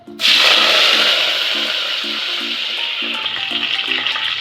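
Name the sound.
cumin seeds sizzling in hot oil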